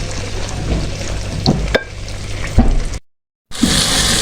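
Halwa in desi ghee sizzles and bubbles steadily in a pan as it is stirred, with a few scraping knocks, then breaks off into a short silent gap before the frying resumes.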